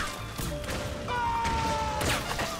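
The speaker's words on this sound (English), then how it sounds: "Explosions." Metal Gear Solid 4 game explosions, including a grenade, and crashing impacts boom loudly and continuously, with a rising whistle-like tone cutting through the chaotic battle noise.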